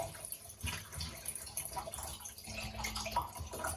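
Liquid film fixer being poured into a container during home film developing, an uneven splashing, gurgling trickle with small drips, close and fairly quiet, no talk.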